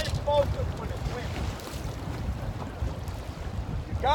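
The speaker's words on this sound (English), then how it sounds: "when the wind is blowing 20 miles an hour" Strong wind of about 20 mph buffets the microphone in a constant low roar while fishing for white perch, with water sloshing and faint creaks in the background.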